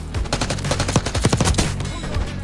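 Rapid automatic gunfire from a gun in Call of Duty Black Ops 6, a loud, dense burst of repeated shots with heavy low thumps, continuous across the whole stretch.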